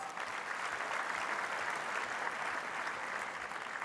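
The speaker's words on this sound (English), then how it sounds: "Give them a round of applause." Sustained applause from a conference audience at a closing session, steady dense clapping throughout with no pauses, moderately distant and evenly loud.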